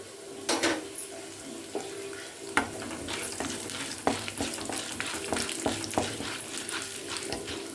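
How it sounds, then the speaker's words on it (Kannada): Urad dal frying in a hot pan, a steady close sizzle with scattered crackles and stirring scrapes, no talk. "ಇದೆರಡು ಸ್ವಲ್ಪ ಕೆಂಪಾಗಿ ಹುರ್ಕೊಳ್ಳೋಣ, ಕಪ್ಪಾಗಿ ಹುರಿಯೋದು ಬೇಡ"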